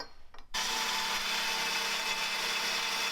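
A power tool notching metal tubing for a race car build starts up after a brief quiet moment, then grinds in one steady, loud, continuous whine close by.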